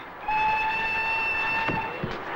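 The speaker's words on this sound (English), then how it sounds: "A train is passing!" Steam train in a 1960s radio spy drama set on the Orient Express passes with a loud, sustained whistle-like horn chord held for about two seconds over rumbling wheels, ending in a brief thump.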